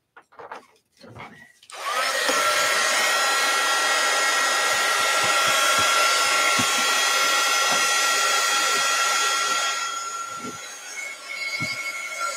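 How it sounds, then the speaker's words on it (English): A heat tool blows with a steady, loud whooshing hum while heat-setting artwork, running about eight seconds after a few soft knocks, then easing down at the end. "let's go ahead and heat set it just a little."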